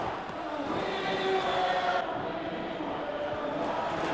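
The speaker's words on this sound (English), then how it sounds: "in front of a huge noisy crowd here at Rugby Park" Large noisy football crowd at Rugby Park, Kilmarnock, filling the air with a steady, dense roar of massed voices throughout, fairly loud and continuous with no distinct peaks.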